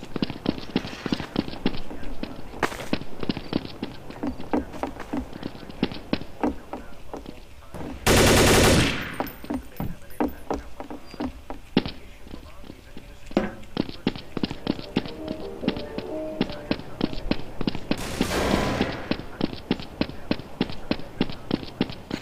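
Gunfire in Counter-Strike: Source on the Inferno map, rapid bursts of sharp shots rattling across the whole stretch, with a couple of louder noisy blasts, close and loud.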